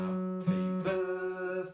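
A single guitar string picks out Happy Birthday slowly, sustained tonal notes changing pitch one after another, clear and close with no voice over them.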